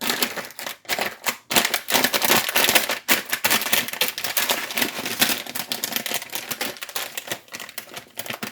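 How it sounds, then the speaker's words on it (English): Crisp crinkling and crunching of a plastic bag as protein chips inside are crushed, in rapid irregular bursts with brief pauses, close by. "And I'm going to crush them in the bag."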